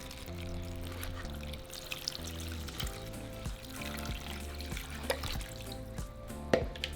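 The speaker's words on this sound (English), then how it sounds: "And we're going to cover them with water." Water pours over dried chiles in a saucepan for birria, a steady, close liquid stream running under a constant bed of tonal background music.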